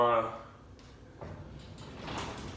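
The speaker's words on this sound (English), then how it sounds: "And we'll move this door down a little bit." A high-lift garage door is lowered partway by hand, giving a low sliding rumble that builds and carries on steadily after a brief voice at the start.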